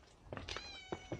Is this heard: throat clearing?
no